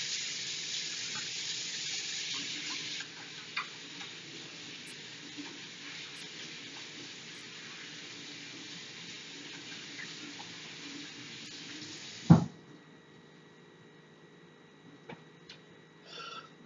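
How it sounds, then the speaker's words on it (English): Kitchen tap running steadily at the sink during a handwash, a soft constant hiss of water that stops with a clunk near the end. "Give my hands a quick wash."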